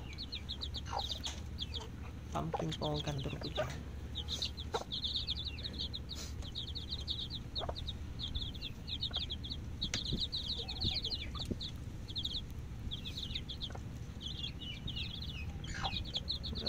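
Hens cluck and murmur softly at a distance in a barnyard, with small bird chirps scattered throughout and a brief bit of quiet speech.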